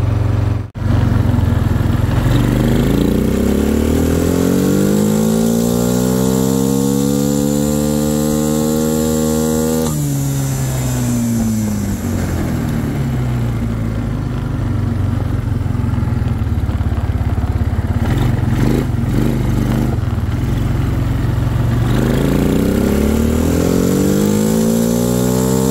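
An engine runs steadily close by for a long stretch, with its pitch rising and falling through several revs between stretches of idling.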